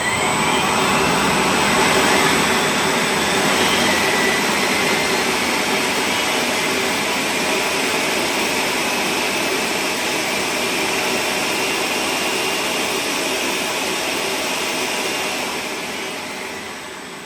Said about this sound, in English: watch this engine, this is spinning more mass, is operating at 100 kV higher than that one